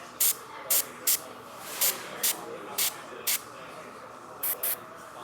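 An airbrush sprays paint onto a model in about ten short, sharp hissing bursts, spaced unevenly over a quiet background.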